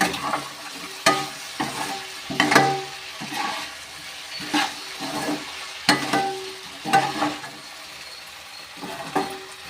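Potatoes fry in a pan with little oil and start to stick slightly. A spatula scrapes and stirs them in repeated rhythmic strokes over a soft, steady sizzle, close by.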